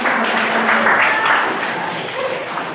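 A classroom group applauds together, a steady dense patter of many hands clapping close by at even loudness for a few seconds.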